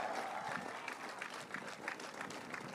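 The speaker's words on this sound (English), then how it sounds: "Let's just give another round of applause." Audience at a poetry event giving a round of applause, a dense wash of clapping with a few cheers, steady and moderately distant throughout.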